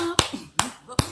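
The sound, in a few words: hands clapping to imitate a drum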